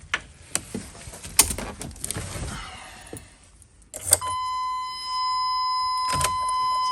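A Chevy Express van that has sat unused for a couple of weeks cranks with a few clunks and rattles, then its engine catches and settles into a steady idle with a whining tone, recorded up close.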